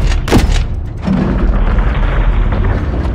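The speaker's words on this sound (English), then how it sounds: "RPG fire coming from east of the hangar" RPG fire in the Call of Duty Modern Warfare III campaign near a hangar: a sharp whooshing boom early on, a second thud after it, then a continuous low rumbling roar of battle.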